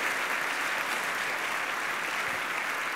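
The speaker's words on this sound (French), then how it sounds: "J'aimerais qu'on l'applaudisse encore une fois, s'il vous plaît." Dense, sustained applause from an audience for a secondary-school singer at a charity campaign launch in Outaouais, steady and loud throughout with no breaks.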